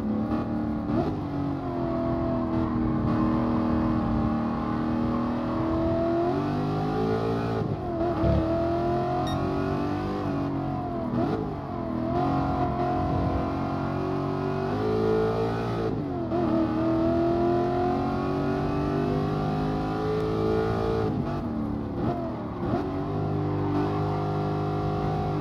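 Racing car engines from the Gran Turismo Sport video game drone and rev continuously, with pitch sweeps as gears shift and cars jostle to overtake, loud and steady throughout with no talk.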